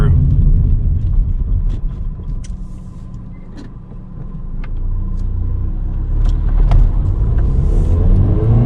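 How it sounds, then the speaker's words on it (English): A car rumbles past on a narrow lane in Cornwall, heard from inside another car that has pulled aside for it, a steady close engine drone that swells and fades under a voice. "I'll let this car through."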